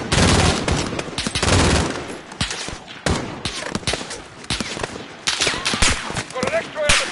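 Loud, dense gunfire in the Call of Duty Modern Warfare campaign, overlapping automatic bursts and single shots close by, with a voice talking over the combat.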